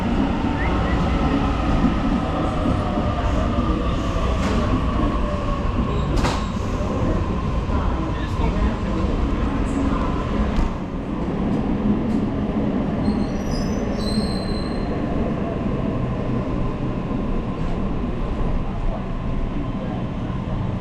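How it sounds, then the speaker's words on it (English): Commuter train rolls into a station with steady rumbling and high wheel squeals rising over the din, loud and continuous throughout, with some background chatter. "Here comes the train."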